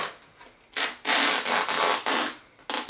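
Fitted sheet fabric being cut along its elastic seams gives a loud, raspy rubbing and tearing sound in several long close strokes separated by brief pauses.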